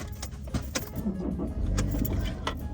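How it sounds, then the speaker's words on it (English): Keys jangle close by before a car engine turns over and settles into a low idle inside the vehicle. "I'm gonna turn the car on for the AC"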